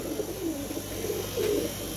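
Pigeons coo softly in two low, rounded murmuring phrases at a pigeon seller's stall, faint against a steady background hum.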